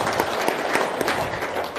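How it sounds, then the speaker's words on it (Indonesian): An audience at a talk applauds in a dense, even burst of clapping, moderately loud and steady for a couple of seconds with no clear speech over it. "dan itu tepuk tangan dulu"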